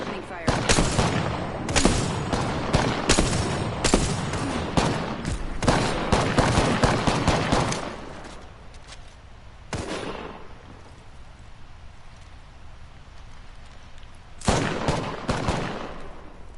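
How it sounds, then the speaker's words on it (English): Rapid automatic gunfire in an Apex Legends match, loud dense bursts of shots in the first half, a lull, then another short volley near the end, with game sounds between. "Opening fire."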